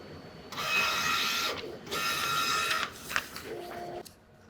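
Epson SureColor G6070 large-format printer printing a print head nozzle check, with two sustained mechanical runs of the print head and a pause between, followed by brief clicks and a short motor whine.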